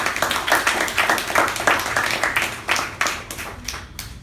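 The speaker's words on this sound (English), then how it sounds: "let us give Toastmaster Pavani a huge round of applause." A crowd at a Toastmasters meeting claps steadily in dense applause, individual hand claps blending into a continuous patter that fades slightly toward the end.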